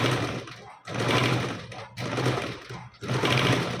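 A sewing machine stitches layers of a frill dress, loud close whirring runs of rapid needle strokes in three or four bursts separated by brief pauses.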